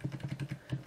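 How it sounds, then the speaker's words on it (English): Computer keyboard arrow keys are tapped in a quick run of about eight soft, even clicks, close and fairly quiet. "use your arrow keys till it looks nice."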